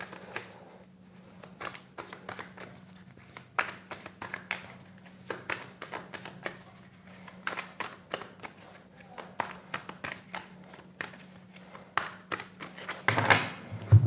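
Tarot cards are shuffled and drawn by hand, a close, quiet run of rapid crisp riffles and flicks with short pauses, ending in a few louder taps, with a low steady hum underneath.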